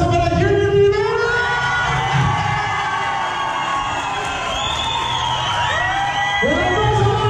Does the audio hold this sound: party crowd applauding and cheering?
yes